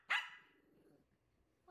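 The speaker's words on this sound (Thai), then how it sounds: "เห็นอะไรลูกเห่าอะไรล่ะ" A puppy lets out a single sharp, close bark that fades into a soft trailing growl, followed by near silence and the start of another bark at the end.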